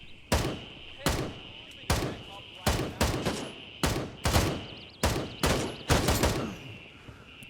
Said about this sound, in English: We just took a shot again.